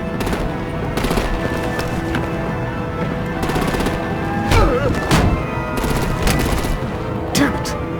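Rapid bursts of automatic gunfire and thuds ring out in the Batman: The Enemy Within game, coming in repeated volleys over a busy background, with brief voices breaking through.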